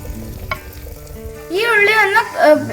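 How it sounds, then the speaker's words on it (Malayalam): Shallots and green chilies hit hot oil in a pan for Kerala-style chicken liver fry, a close, bright sizzle that swells and crackles loudly in the second half, with a few scrapes of stirring. "ആദ്യം ചെറിയുള്ളിയും പച്ചമുളകും ഇട്ട് കൊടുത്തിട്ട് പിന്നെ സവാള ഇട്ട് കൊടുത്താൽ മതി"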